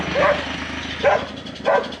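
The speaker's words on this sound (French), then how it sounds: "putain, ces chiens" Dogs in Guatemala bark three times at a steady pace, loud and fairly close, each bark a sharp yelping burst over a quieter background.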